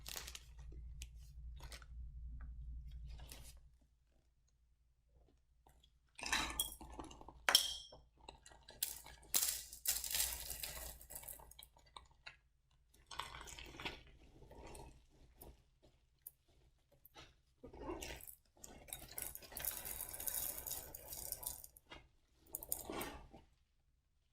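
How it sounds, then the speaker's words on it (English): Ice and chunks of rock salt tipped into a large plastic bag, a series of crunchy clattering rattles and clinks in irregular bursts separated by quiet pauses, close and moderately loud. "The next step is to have a bigger bag, and inside here you're going to put your ice and your salt"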